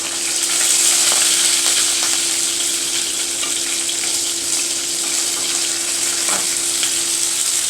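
Ginger paste and green chillies fry in hot oil with a steady, dense sizzle throughout, close and fairly loud, with a faint knock of stirring near the end.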